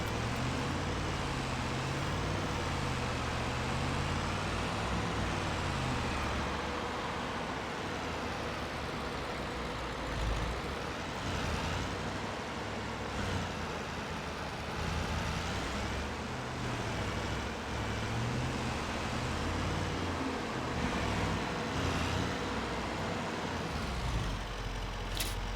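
A Farming Simulator 25 truck engine hums and rumbles at an even level, with gear and speed changes bending the tone as it keeps rolling.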